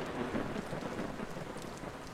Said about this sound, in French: Oh là là, mais c'est quoi cet orage là?